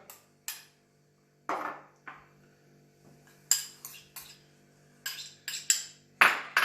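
Spiced butter stirred with garlic and ginger in a bowl, scattered soft clinks and scrapes of a utensil against the dish, some sharper taps, moderately close and alone without talk.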